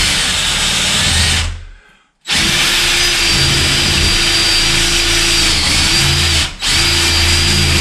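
A power drill bores a hole through a plasterboard wall in an abandoned apartment, a loud close whirring roar that stops briefly, restarts, and pauses again for a moment, with no speech.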